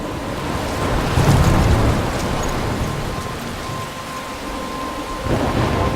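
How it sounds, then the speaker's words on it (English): Thunderstorm with heavy rain in the game Life Is Strange: a loud, continuous downpour roars throughout, with deep rolling thunder swelling early and again at the end. "I'm trapped in a storm?"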